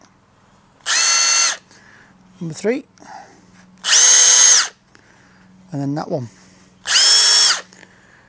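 A power drill on a breeze block building job runs in three loud bursts of about a second each, stepping through different speed or hammer settings. Someone speaks briefly in the pauses between bursts.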